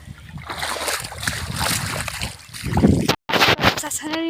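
Water flows and splashes outdoors on a farm, churning loudly beneath near continuous talking, with a short break in the sound near the end.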